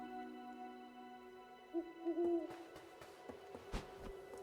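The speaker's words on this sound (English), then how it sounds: "Trying to decide if the owl noise is coming from like left or right channels" An owl in the video game Death's Door gives a few soft, short hoots over a steady, faint ambient drone, followed by scattered light clicks and taps.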